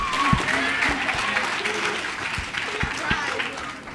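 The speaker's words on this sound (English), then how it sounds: "let's please give Michael, Big Mike, a big hand of applause" A large audience applauds motivational speaker Michael Spence at a KDCA event, a steady, dense clapping that fills the whole stretch while a voice talks over it.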